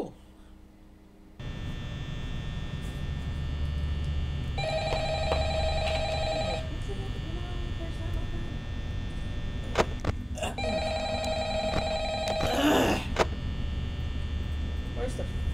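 Telephone ringing inside the Five Nights at Freddy's horror video game: two distinct ring bursts a few seconds apart over a steady low electrical hum, with a brief noisy burst near the end.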